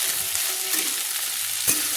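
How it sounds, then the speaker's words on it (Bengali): Chopped onions fry with potatoes in a pan on a medium flame with a dense, close sizzle throughout, broken by a single sharp stirring knock near the end; no speech. "দিয়ে আমি ভালো করে পেঁয়াজগুলো একটু ভেজে নিচ্ছি।"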